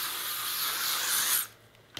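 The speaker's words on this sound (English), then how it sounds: "And I will just spray that" Humidity-resistant, zero-hold waterproof hair spray from Sexy Hair misted onto short hair in a long, steady close-up hiss lasting over a second, then cutting off, with a brief faint burst at the end.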